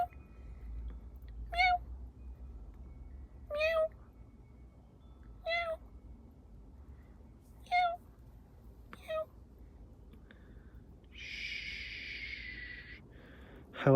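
A person's voice imitates a cat, giving five short meow-like calls spaced a couple of seconds apart over a quiet background, followed by a brief hiss of noise.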